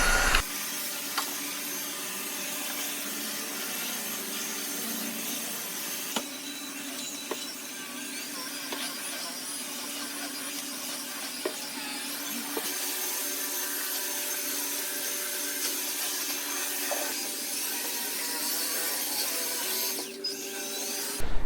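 A SunSare cordless vacuum cleaner runs steadily throughout, a continuous motor whine with small clicks and bumps, close and fairly loud, with no talking.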